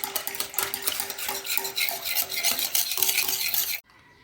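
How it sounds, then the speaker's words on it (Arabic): A utensil stirs whole wheat bread dough ingredients, yeast and sugar, in a bowl, scraping and clinking steadily and close for almost four seconds before stopping. "نخلطوهم مليح"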